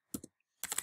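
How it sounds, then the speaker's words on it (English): Quick keystrokes on a computer keyboard as a website address is typed in, a short burst of two clicks, a pause, then a denser run of close, crisp taps. "I'll just type it in real quick here."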